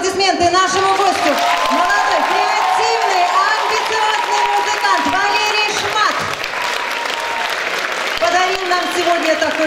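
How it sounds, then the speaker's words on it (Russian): A concert hall audience applauds a guest performer, dense sustained clapping filling the room with a few cheers mixed in, while a presenter's voice carries over the applause. "ваши аплодисменты нашему гостю."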